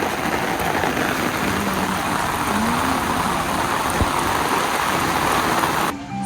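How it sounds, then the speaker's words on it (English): Steady rain hisses down outside a cabana in Laos, a dense, constant wash of drops close by that holds evenly throughout and cuts off abruptly at the very end. "but it's still raining"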